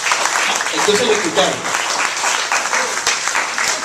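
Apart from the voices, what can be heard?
congregation applauding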